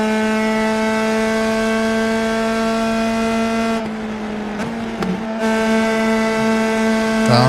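USF2000 open-wheel race car engine in iRacing at Phoenix, a loud, steady buzzing drone that briefly dips and roughens in the middle as the car downshifts, then returns to its steady note.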